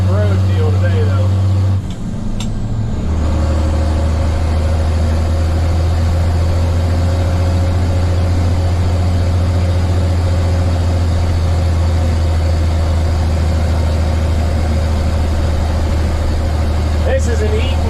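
Truck engine running from inside the cab of a truck with an Eaton Fuller 10-speed Road Ranger transmission, a steady low drone with a brief dip near the start, and someone talking over it.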